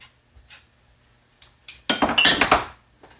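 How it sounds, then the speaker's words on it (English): A utensil stirs garlic in a skillet for a sausage, shrimp and quinoa dish. Scattered light taps give way to a close burst of clattering, scraping metal strokes that lasts about a second. "I'm just going to stir that up."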